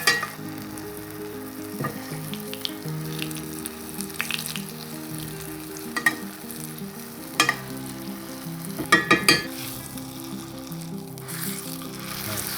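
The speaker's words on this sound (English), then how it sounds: "Just wanna sear it briefly on each side." Seasoned meat searing in a hot pan, a steady sizzling fry with occasional crackles and pops, close and alone without talk.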